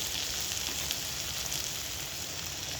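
Sliced snake gourd fries steadily in a hot pan, giving an even, close sizzle with a constant crackle throughout and no voices.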